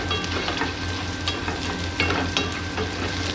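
Ginger sizzles and fries steadily in a pan for adobong atay, a continuous crackling hiss with a few brief stirring clinks, close and fairly loud with no talking.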